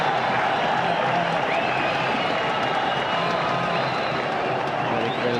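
A cricket crowd in Sharjah at a Pakistan versus Sri Lanka match roars and applauds a boundary, a loud, continuous wash of distant cheering and clapping, with a commentator's voice faintly present.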